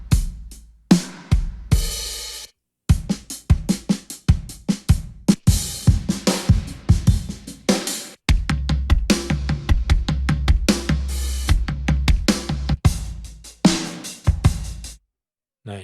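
Addictive Drums 2 drum kit preset playing a groove alone, with punchy kick and snare hits, crashing cymbals and busy fills, stopping briefly between short phrases before a steadier beat with heavy low end takes over.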